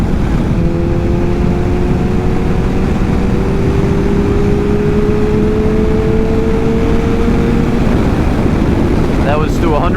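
A Kawasaki ZX7R sport motorcycle in sixth gear rolls to full throttle from about 70 mph. The engine note climbs steadily under heavy, constant wind roar from riding at speed.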